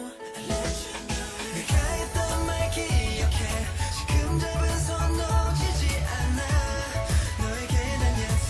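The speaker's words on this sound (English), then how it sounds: "The keys are really having a moment in this song." Keyboard parts ring through a full K-pop track, over steady drums and bass. The mix is dense and constant, with no talking over it.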